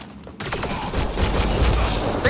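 Rapid gunfire bursts rip through a firefight in Mass Effect Andromeda, loud and dense with overlapping shots and a busy mix of effects lasting the whole moment.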